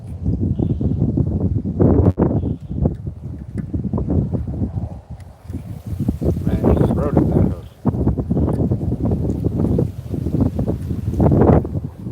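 Strong wind buffets the camera microphone with loud, continuous rumbling gusts, while a voice speaks over it.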